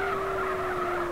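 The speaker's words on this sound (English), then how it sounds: "the car sounds like it just has one gear" Toyota Soarer SC300 in a GTA game: a steady, loud engine drone holding one pitch, as if stuck in a single gear, with tire squeal and skidding layered over it throughout.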